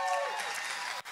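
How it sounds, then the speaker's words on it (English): A church congregation claps for a visiting family during a morning service, a dense burst of applause mixed with whistles and voices that carries through the clip and cuts off near the end. "Let's give them a round of applause this morning."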